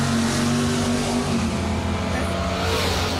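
A dragster roaring at an old-school bracket drag race, a loud, sustained engine blast that holds steady throughout.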